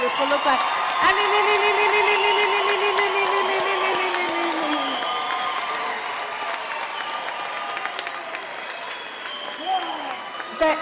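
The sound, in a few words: parents standing and applauding the graduates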